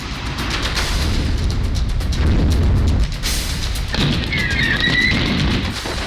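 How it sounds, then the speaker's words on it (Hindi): Onyx missile attack explosions boom in a heavy, rumbling sequence, loud blasts rolling into one another with a brief break midway, followed by a thin higher whine. "ओनिस्क मिसाइल से हमला।"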